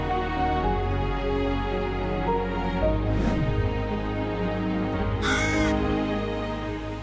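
A raven caws a few times over a steady, loud background hum, the calls brief and fairly close, with no speech.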